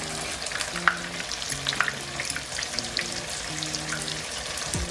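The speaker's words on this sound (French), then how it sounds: "on fait frire de l'autre côté tranquillement" Tuna-filled brick pastry sizzles steadily in a pan of hot oil, a continuous crackle with occasional pops and light clinks of a utensil, with no talking over it.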